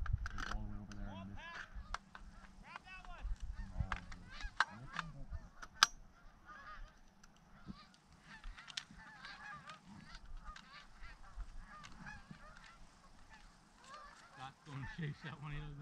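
Geese honking as they fly in during an early-season goose hunt in Washington State, fairly distant calls scattered throughout, with mechanical clicks and hunters talking quietly.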